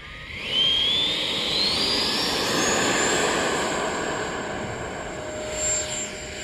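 An X-Fly Alpha RC electric ducted fan jet plane flies past with a steady, loud whine that rises in pitch early on, holding a continuous roar throughout.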